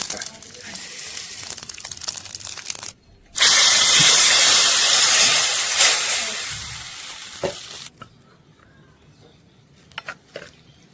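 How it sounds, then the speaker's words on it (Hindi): Cumin seeds and chilies hit hot oil for tempering with a sudden loud sizzle that crackles steadily for several seconds, then fades into quieter kitchen clatter. "तेल गर्म होएगा तड़का के लिए, यूं डाल दो जीरा मिर्ची"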